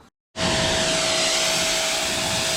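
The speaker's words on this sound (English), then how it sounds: "We take him outside and we hit it with the pressure cleaner." A pressure cleaner starts up abruptly outdoors to wash a dirty carpet, its loud, steady high-pressure hiss and motor whine continuing without a break after a brief moment of silence.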